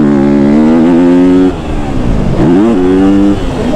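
A KTM 250 SXF motocross bike engine revs loud and close, holding a steady high drone, dipping, then climbing sharply again before settling.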